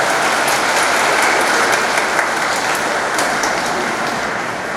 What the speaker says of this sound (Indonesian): Tepuk tangan untuk OMK kita.